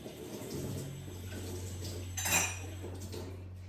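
Plastic storage bowls for overnight oats clink and knock as they are handled in a kitchen, with one brighter clatter near the middle over a low steady hum; faint and close.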